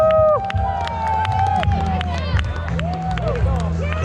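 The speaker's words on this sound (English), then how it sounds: "here's Steena coming into the finish with the cheer squad" A cheer squad at the finish of a 50K trail race shouts and cheers a runner in, with lively whoops and calls and scattered clapping. People also talk nearby.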